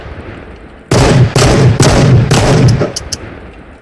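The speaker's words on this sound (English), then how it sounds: "That is an extremely loud weapon. Let's shoot it again." Shotgun fire in the VR game Into The Radius: five loud, close blasts spaced roughly half a second apart, each with a short booming tail, followed by a couple of faint clicks.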